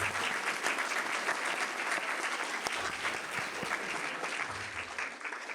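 An audience at an induction and recognition event applauds honorees, a dense, even roar of many hands clapping that stays steady throughout with no talking over it.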